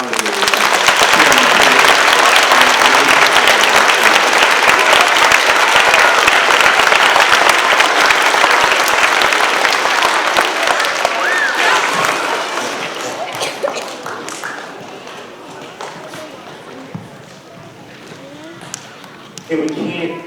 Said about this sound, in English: So can you give a round of applause to all the alligators?